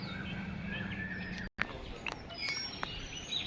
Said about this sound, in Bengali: খুব সুন্দর পায়রা, উড়ানের একদম